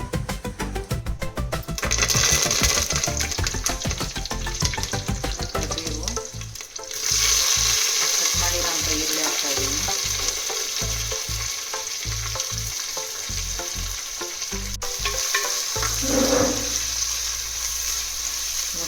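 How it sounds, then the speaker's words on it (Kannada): Whole spices and dried fenugreek leaves (kasuri methi, cinnamon, cloves, bay leaf) frying in hot oil in an Indian kadai: a loud, steady sizzle throughout, with brief stirring scrapes and no talking. "ಫ್ರೈ ಮಾಡ್ತಾ ಇದ್ದೀನಿ. ಗೋಲ್ಡನ್ ಬ್ರೌನ್ ಬರೋವರೆಗೂ ಚೆನ್ನಾಗಿ ಫ್ರೈ ಮಾಡ್ಕೊಳ್ಳೋಣ."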